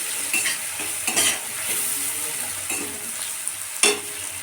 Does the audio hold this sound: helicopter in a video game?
no